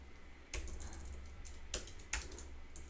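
Text is typed on a computer keyboard in short bursts of close, crisp key clicks, with a few louder keystrokes standing out against a quiet background hum.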